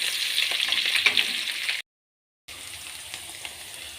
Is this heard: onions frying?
yes